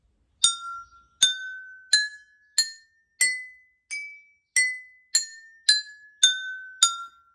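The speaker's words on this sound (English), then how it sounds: "Let's play the whole scale from the first to the 6th glass and see if it's in tune." Water-filled glasses of a homemade water xylophone are struck one after another in a rising scale, eleven clear ringing glass tones evenly spaced, each decaying before the next.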